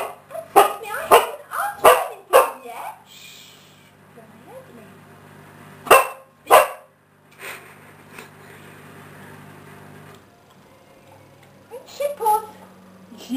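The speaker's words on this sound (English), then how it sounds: "This is Gadget, the dog." A dog barks in sharp, loud bursts, several in quick succession at the start and again a few seconds later, with people talking quietly between the barks.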